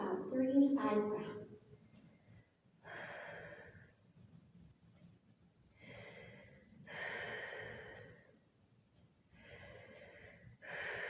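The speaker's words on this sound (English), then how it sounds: "Take about 3 to 5 breaths." Slow, deep breaths during a yoga hip and lower-back stretch, several long inhale-exhale swells in a steady rhythm, close and soft with a faint airy rasp.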